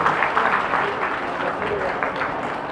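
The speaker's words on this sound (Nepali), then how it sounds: "एकचोटि सबैले ताली बजाएर स्वागत गरिदिनु आग्रह" An audience at a literature festival claps to welcome a film actor and theatre artist, sustained steady applause filling the hall, with a voice speaking over it.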